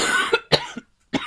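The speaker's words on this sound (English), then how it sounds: "just while you get over this coughing fit" A short coughing fit from one person, three or four quick, close coughs with brief gaps between them, loud and alone.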